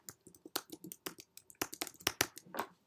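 Rapid, uneven clicks of fingers typing on a computer keyboard, close and fairly quiet, with irregular bursts of keystrokes and no speech.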